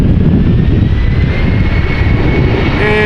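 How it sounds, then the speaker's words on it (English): An Embraer 190 jet at Amsterdam Schiphol, bound for Bristol, makes a loud, close engine roar with a steady whine running through a few seconds. "This is another Embraer 190 going to Bristol"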